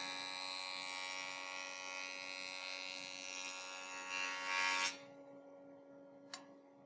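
A woodworking jointer runs while cutting wood. Its motor gives a steady whine with a high buzzing hiss that swells near the end of the cut, then drops to a quieter hum, followed by a brief click.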